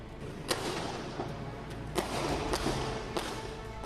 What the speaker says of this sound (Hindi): गोलियां ऐसे चल रही हैं मानो पटाखे चल रहे हो।